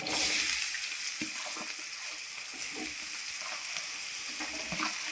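Onion pieces frying in a pan for a pusa parigala fish curry, a steady broadband sizzle with a few soft stirring knocks, close and fairly quiet throughout, with no talking.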